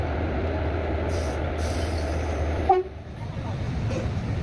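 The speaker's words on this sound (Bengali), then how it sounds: "আমাদের ইঞ্জিন আসছে আস্তে আস্তে সাঁতরাগাছি লোকোশেডের ওয়েব ফোর ইঞ্জিনটি জোড়া হচ্ছে" A WAP-4 electric locomotive from Santragachi loco shed creeps toward the train at Shalimar station for coupling, giving a steady low rumble and a faint toot, then a sudden clank, after which the sound drops to a quieter hum.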